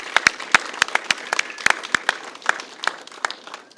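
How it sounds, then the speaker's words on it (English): An audience at a children's reading center awards ceremony claps in a brief round of applause, with sharp separate hand claps in an uneven rhythm, moderately close and lively. "Let's give them another round of applause."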